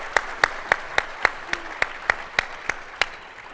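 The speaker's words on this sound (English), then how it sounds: "We're going to give you a round of applause." A single person clapping slowly at an awards event, about a dozen evenly spaced, sharp claps over a quiet room, moderately close and fairly soft.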